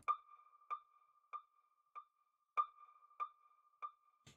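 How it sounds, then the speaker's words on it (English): Synthesized percussion hit in FL Studio run through a simple delay plugin: short bright pings repeating at an even pace, with echoes trailing after each hit, faint and isolated. "Then I add this kind of like percussion sound I found."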